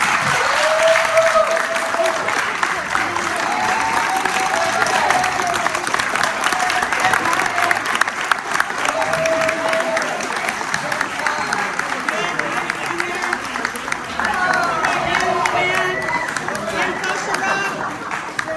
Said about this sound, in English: let's give a round of applause to this time